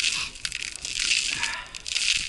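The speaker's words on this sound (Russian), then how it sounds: "тоже хрустит" Thin river ice crunching and crackling underfoot near a railway bridge, a continuous gritty crackle with repeated crunchy bursts, close and fairly loud, with no talking.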